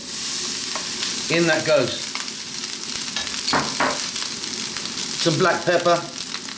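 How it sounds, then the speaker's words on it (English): Cold cooked rice fries in a hot wok on a powerful burner for takeaway-style egg fried rice, a continuous loud sizzle and scraping stir while someone talks briefly over it. "we're going to literally fry the rice for about 4 minutes"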